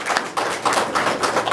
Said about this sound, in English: So give the chief a round of applause as well.